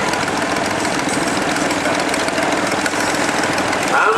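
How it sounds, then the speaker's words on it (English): A 1959 Ford Dexter tractor runs at a vintage show, its engine a steady mid-pitched chugging knock held evenly throughout, fairly close and without talk. "Number 63 in front of the commentary box now is the 1959 Dexter."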